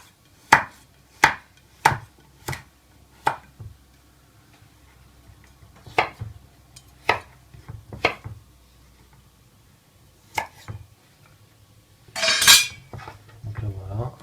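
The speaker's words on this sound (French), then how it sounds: "une fois qu'on a réussi à sortir tout de la noix de coco, on découpe des petits morceaux" Knife chopping fresh coconut flesh into small pieces on a board, a series of sharp, close, irregular knocks with gaps between them, ending with a brief rattling scrape.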